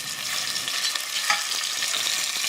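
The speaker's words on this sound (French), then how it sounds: "on va faire revenir dorer des morceaux de veau dans l'huile d'olive." Veal pieces browning in olive oil in a creuset pot give off a continuous, loud, bright sizzle with faint stirring scrapes, no voices.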